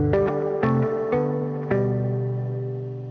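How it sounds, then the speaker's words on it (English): An electric guitar through an amp with heavy, wet reverb plays four clean plucked chords, each ringing out and blooming into a long, smooth tail. "maybe I'll dial in some reverb over here, make this guy"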